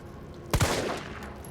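Gunfire in the Resident Evil 3 Remake demo on PS4 Pro: a couple of quick, sharp shots close together, followed by a decaying rumble over a quiet game-ambience background, with no talking.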